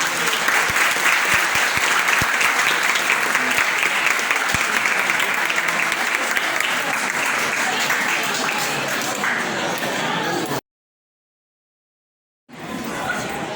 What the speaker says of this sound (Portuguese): Ai, como aplaudir, gente.